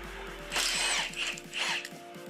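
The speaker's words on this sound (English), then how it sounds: "And next, we've got to remove the ball joint bolt." A power tool, likely an impact gun, whirs and rattles up close while removing the ball joint bolt on a car during a CV axle replacement, in two loud bursts with a steady mechanical pulsing underneath.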